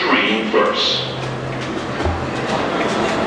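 A subway train in an underground station rumbles and hums steadily with a clattering wash of noise, while a low motor tone holds underneath and voices talk over it.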